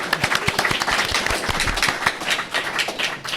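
A live audience at a street photography event claps and cheers, with sharp, uneven individual claps close by over a busy crowd roar, loud throughout.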